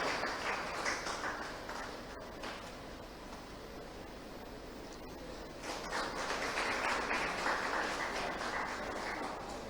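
Applause from an audience opening an award ceremony for police and social leaders, a continuous dense clatter of clapping that swells toward the end, with no talk over it.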